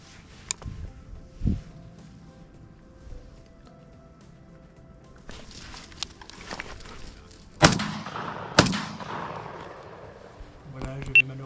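Hunting gunfire aimed at a large wild boar near a cornfield, with two sharp, loud shots in quick succession after quiet rustling and faint movement, plus a few smaller knocks.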